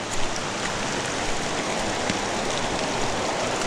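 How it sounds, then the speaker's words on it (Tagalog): Steady rain falling outdoors during coconut harvesting in a remote area, a dense even hiss of drops with a few faint taps on surfaces, no speech. "Kasaka na ulan"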